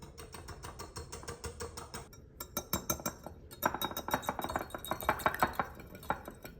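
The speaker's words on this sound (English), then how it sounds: "Now we whisk." Vanilla muffin batter for red currant muffins is whisked in a bowl, with fast, rhythmic clicking and tapping strokes that pause briefly and then continue steadily, close and fairly quiet.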